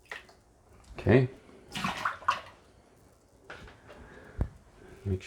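Water splashes and pours into the tank of an ultrasonic cleaner, in bursts and gurgles, while a voice talks intermittently in a small indoor space.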